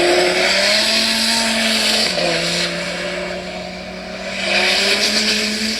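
A 1,300-horsepower Corvette ZR1 engine roars and revs continuously, pitch dipping briefly then climbing again as it accelerates, loud and close with no talking.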